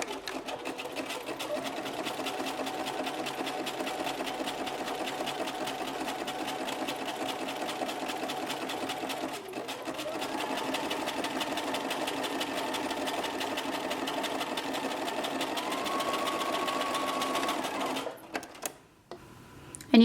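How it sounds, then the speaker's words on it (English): A sewing machine runs a zigzag stitch along the hem edge of stretch swim knit fabric, humming in a steady, fast mechanical rattle for about eighteen seconds before stopping with a few clicks, close and loud, with no talking. "Now if we switch to a zigzag stitch, I'm going to do it from the wrong side so I can be sure to cover the raw edge of that hemline."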